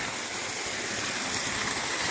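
Steady broadband rush of a waterfall at a little-known new falls in Puthur Nadu, a constant loud wash of flowing water with no pauses and no voices.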